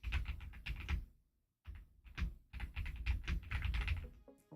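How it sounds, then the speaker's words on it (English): Someone types on a computer keyboard in quick, clustered bursts of close clicking, pausing briefly before continuing at a steady pace. "Yeah, the typing you hear."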